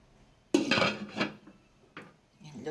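A lid goes onto a cooking pot: a sharp metallic clank, a brief rattle, then a second lighter clink, close and fairly quiet.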